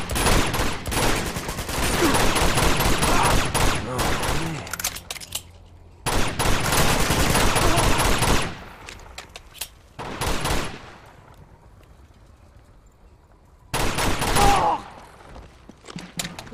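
Heavy gunfire in Uncharted 2: Among Thieves, loud sustained bursts of automatic weapon fire in several clusters separated by brief lulls.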